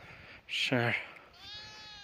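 A single sheep on a mountain trail gives one short, wavering bleat close by, and faint sounds follow it.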